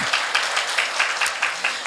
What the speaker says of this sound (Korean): 우리를 위하여 박수!